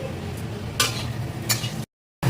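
Fish frying in oil in a wok gives a soft, steady sizzle with a couple of brief scraping stirs, close by, before cutting to a moment of silence.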